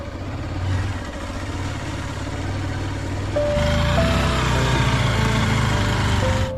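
Motorcycle engine running on the way to Dublagadi sea beach, a steady close mid-pitched engine drone that steps up louder partway through as it revs.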